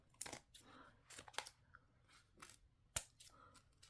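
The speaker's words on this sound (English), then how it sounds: "We got a few fray pieces, and we'll trim them" Scissors trimming frayed paper pieces for a junk journal, a few quiet separate snips and crisp cuts spaced over a few seconds, close up with no talking.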